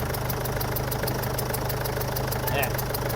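A Ford Ranger BT50 diesel engine idles steadily with a low, even rumble throughout, under a continuous workshop hiss with a brief higher squeak near the end; the engine has a leaking injector washer.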